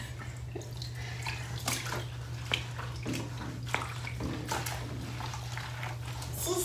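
Bath water sloshing and splashing in a bathtub, with a run of irregular close splashes and drips over a steady low hum.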